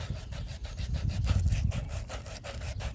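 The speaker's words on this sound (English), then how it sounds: "You're going to take your sandpaper, clean up really well." Sandpaper rubbing back and forth over a copper water pipe fitting during prep for soldering, a steady rapid scratching rhythm up close with no talk.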